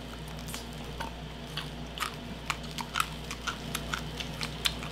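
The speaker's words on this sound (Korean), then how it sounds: "이 뼈까지 바삭바삭 한다니까." Crisp, irregular crunches and small cracks of quail bones being chewed, the birds grilled over a briquette fire, close up and fairly quiet over a steady low background hum, with no talking.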